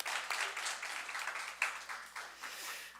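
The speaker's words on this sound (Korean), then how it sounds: "우리 박수 한번 쳐주시죠." Church congregation applauding together during a Wednesday service, a steady broadband patter of many hands clapping for about three seconds, moderately distant with room reverberation and no voices over it.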